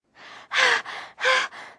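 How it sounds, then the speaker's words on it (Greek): A runner out of breath after a race pants heavily in five quick, close breaths, alternating stronger gasps with softer exhales, with no talking. "Μια στιγμή να πάρω μια ανάσα."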